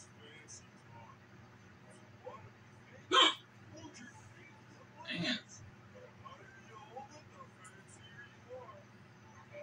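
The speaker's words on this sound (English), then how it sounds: "Just ignore my hiccups, guys." Hiccups come from a person, two sharp bursts a couple of seconds apart over a faint background hum, with light vocal murmurs in between.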